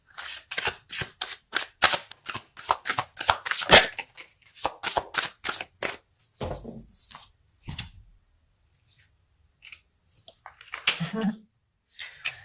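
Tarot cards are shuffled by hand during a reading: a rapid run of crisp riffling snaps for about six seconds, then sparser, softer card handling and a brief burst near the end.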